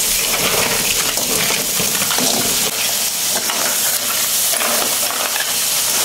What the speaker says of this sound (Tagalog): ibuhos yung ating crab